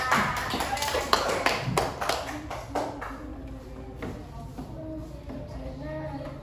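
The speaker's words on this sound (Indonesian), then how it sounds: "Oke, tepuk tangan." An elementary school class in Bengkulu claps together. A burst of loud, rapid hand claps lasts a few seconds, then fades into quieter room sounds and voices.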